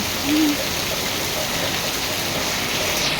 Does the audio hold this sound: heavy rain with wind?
yes